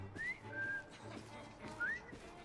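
A man whistles in the video game Assassin's Creed Syndicate, with a few short rising and sliding tones over a dense game soundscape.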